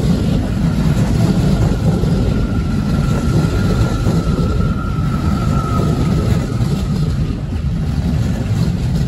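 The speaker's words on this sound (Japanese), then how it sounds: "今度は高尾山口行きの各駅停車、これも急線系かな。" A Keio Line local train bound for Takaosanguchi pulls into Hachimanyama station, a loud, close, continuous low rumble of wheels and motors with a faint high whine running through it, no voices.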